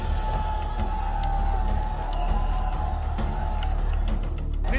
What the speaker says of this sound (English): I notice a huge crowd gathering outside the Dwarkadish temple.